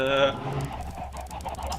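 Chickens on a chicken farm in a video game, a brief close burst of clucking and squawking that fades into scattered lower fowl noises.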